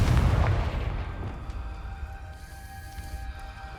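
A Confringo fire-blast spell in Hogwarts Legacy goes off as a deep, booming burst at the very start, then fades into a low rumble under steady tonal game music.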